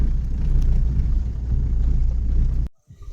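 A car whose tyre was stuck in mud is forced out, its engine giving a loud, deep, labouring rumble at close range for a few seconds before cutting off abruptly.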